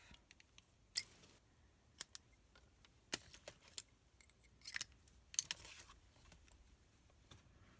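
Scissors snip a length of linen thread during a paper craft project, a handful of quiet, sharp cuts spaced unevenly through otherwise hushed room sound.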